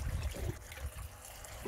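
Salt being stirred into a bucket of water for a koi pond, low sloshing swirls and soft splashes repeating in a loose rhythm, close by, with no voices.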